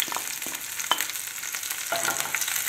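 Whole cumin, green chili and garlic fry in hot oil while being stirred for a pea paratha filling, a steady close sizzle broken by scraping stir strokes, with no talking.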